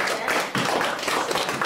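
Audience applause at a kindergarten spring holiday performance for mothers' day, a dense burst of clapping from many hands filling the room, steady and fairly loud, with a faint voice mixed underneath.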